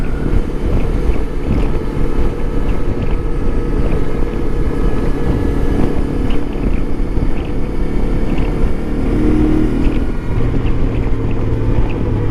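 A Lifan KPT 400 motorcycle, fitted with a swapped front sprocket, drones at a steady engine note while riding. Heavy wind rush over the microphone partly masks it, and the pitch shifts slightly toward the end.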